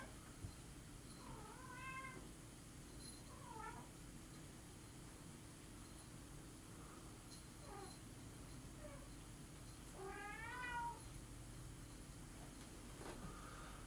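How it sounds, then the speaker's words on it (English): A mother cat with her kitten meows in a few separate rising calls, moderately near, over a steady low background hum; no one speaks. "I don't know what's wrong with that mama cat."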